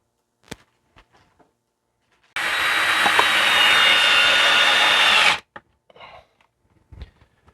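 A power drill driving screws while a mini split air conditioner is mounted, one loud whirring burst of about three seconds with quiet clicks and handling knocks before and after.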